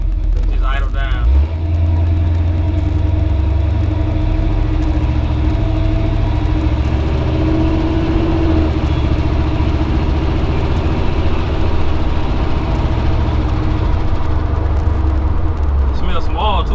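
A 1983 Chevrolet C10 pickup with an apparent problem and a smell of oil idles with a steady, loud, low rumble throughout, while someone talks over it.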